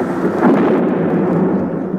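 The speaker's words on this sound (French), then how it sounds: "Madame de Bonnefamille, réveillée par le fracas de l'orage" Thunderstorm thunder: a loud, sustained rumbling roar of a storm at night over a Parisian mansion, dense and continuous, swelling slightly early then rolling on steadily without any voices.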